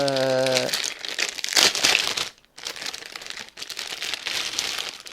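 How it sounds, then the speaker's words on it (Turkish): A cardboard box with its packaging being opened, with loud crinkling and crumpling of plastic and paper, a short pause midway, then more rustling handling. "Şimdi şöyle bir kutu geliyor size. Kutuyu açıyorsunuz."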